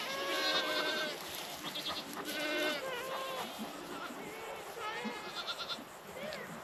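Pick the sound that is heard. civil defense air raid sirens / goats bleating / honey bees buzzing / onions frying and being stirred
goats bleating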